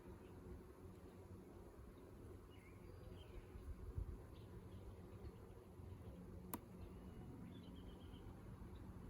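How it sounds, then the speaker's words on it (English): Honeybees fed on sugar water buzz steadily over a heavily covered hive frame during a spring inspection, a continuous dense drone with one brief sharp click midway. "A lot more bees on it."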